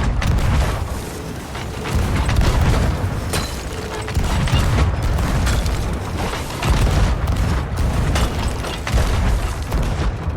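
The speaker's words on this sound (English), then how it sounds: "Load your cannon shot." Ship cannons in Sea of Thieves fire a rapid series of deep, heavy booms, one close after another, over a rumbling background of sea and ship noise.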